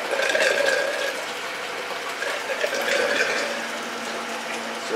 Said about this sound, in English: System's filling up here. Tank's filling up.